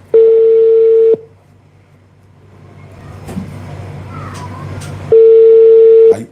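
A phone call rings out unanswered: two loud, steady ringback tones at the start and end, with a quieter stretch of low background noise and faint sounds between them.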